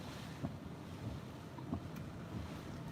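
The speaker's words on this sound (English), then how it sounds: "we're probably getting gusts at about 50" Strong tropical storm wind from Hurricane Eta gusts across the Florida Keys, a steady, loud broadband roar with a few slightly stronger surges and no talk.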